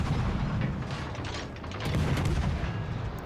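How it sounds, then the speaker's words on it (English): Ship guns fire from a destroyer engaging a cruiser in World of Warships Legends, heavy booming artillery salvos that roll into each other with a sustained loud rumble and sharper crackling reports near the end. "I decided to open up the guns here, and we do get 2 fires on him"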